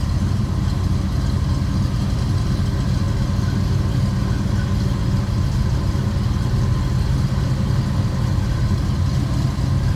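A 350 V8 engine in a 1957 Chevrolet Bel Air sedan idles close by with a steady, deep, throbbing rumble that holds even for the whole stretch, with no talking.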